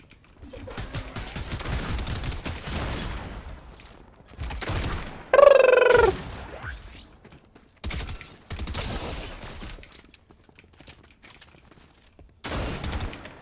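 A Fortnite turret fires rapid automatic bursts in several separate volleys, loud and close, with a voice talking between and over the shots.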